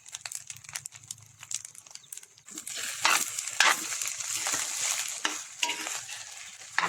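Fried garlic rice with egg being stirred in a hot pan, a steady close sizzle with scraping and tossing strokes that grows louder partway through.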